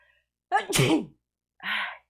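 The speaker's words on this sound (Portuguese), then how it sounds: "Peraí que eu vou espirrar de novo." A single sharp sneeze with a breathy wind-up, followed a moment later by a short sniff or exhale; the sneezer has rhinitis.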